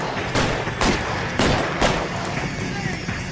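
Gunfire in the video game L.A. Noire: several loud, sharp blasts spaced about half a second apart over a steady noisy din, with voices talking underneath.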